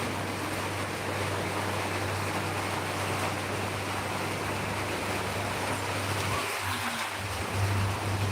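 Heavy rain pours down steadily as a dense, continuous hiss, with a low hum beneath and a faint rumble toward the end, with no voices.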